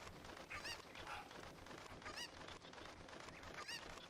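Chicken in the video game Zelda: Ocarina of Time giving repeated short, squawky clucks at about three spaced moments over a low game background hum, with no talking.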